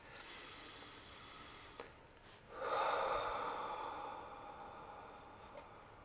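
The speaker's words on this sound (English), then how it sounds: "take a deep breath in through your nose and a longer, slower exhale out through your mouth" One person takes a deep breath in through the nose, then lets out a longer, slower exhale through the mouth. The inhale is short and soft, the breathy exhale is louder and fades gradually, close and without talk.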